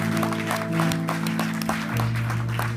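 A church congregation claps and cheers at a Sunday morning service, a steady, dense wash of applause that fills the room and carries on evenly throughout, with sustained organ or keyboard tones underneath.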